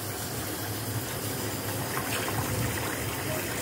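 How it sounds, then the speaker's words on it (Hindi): Water gushes steadily into a cooking pot for rice, a continuous rushing pour that stays even throughout with no talking. "अब हम इसमें पानी भर देंगे।"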